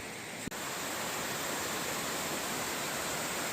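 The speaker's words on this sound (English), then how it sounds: "This goes on for a mile or two, right alongside the trail, and usually comes down like a waterfall like this" A brook cascading like a waterfall beside an Appalachian Trail path gives a loud, steady, broadband rush of falling water, unbroken after a brief click at the start.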